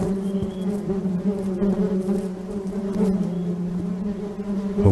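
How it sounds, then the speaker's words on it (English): A dense swarm of bees buzzes steadily and loudly throughout a scene in the video game Nobodies: Silent Blood, holding a constant droning hum. "Oh God, not the bees!"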